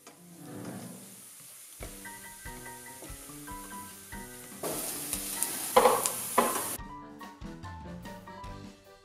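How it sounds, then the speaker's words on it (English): Bell pepper, celery and onion sauté in a hot pan with a sizzle and hiss that rises for a few seconds and then cuts off, mixed under background music. "Saute the veggies for about 10 minutes until they start to brown."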